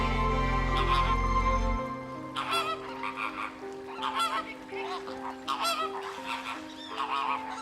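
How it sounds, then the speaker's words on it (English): A large colony of flamingos gives a flurry of nasal, goose-like honks in irregular bursts over a low steady drone, the calls moderately close and overlapping. "As the day ends, the flamingos take to the sky."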